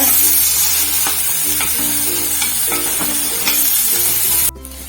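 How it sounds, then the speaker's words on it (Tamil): Chopped onions sizzle steadily in a hot pan while a utensil scrapes and stirs them in irregular strokes, close and continuous, while cooking a bitter gourd curry. "நறுக்கி வச்ச வெங்காயத்தை போட்டு வதக்கிடுவாங்க"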